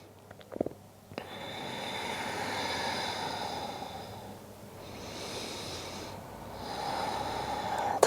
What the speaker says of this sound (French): 3 respirations de plus.